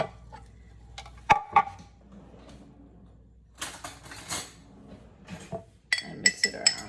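A spoon stirs vitamin C powder into about 60 ml of distilled water in a glass, giving sharp close clinks against the glass in irregular bursts with quiet gaps and soft swirling between them.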